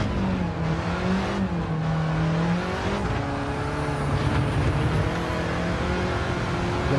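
Volkswagen Golf engine in Gran Turismo 7 revving hard with shifting pitch, steady and loud throughout with no talk over it.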